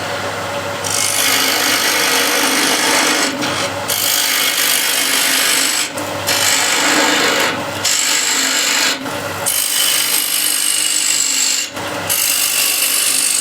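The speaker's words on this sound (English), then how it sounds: "Now we can hollow this out using scrapers." A square-end scraper hollows out wood on a lathe in repeated scraping bursts of about two seconds each, separated by short pauses. A voice speaks briefly over one of the bursts.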